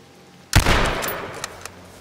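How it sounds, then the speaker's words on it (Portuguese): A sniper shot in the video game H1Z1 cracks out suddenly as a single sharp, loud blast, followed by a decaying tail and a couple of faint later pops. "Mano, eu tomei um tiro e fiquei com 10 de vida. É sniper."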